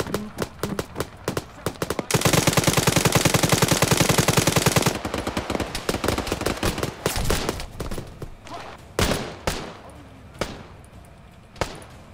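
Gunfire in a video game: scattered single shots, then a long sustained automatic burst lasting several seconds, followed by irregular loud shots fading to sparse, fainter reports.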